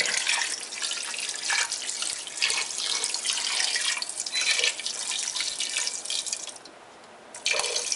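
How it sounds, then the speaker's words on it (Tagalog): Steady rushing water pours and splashes into a cooking pot for several seconds, a continuous bright hiss with a brief dip near the end before resuming. "Tapos, lagyan natin ng tubig."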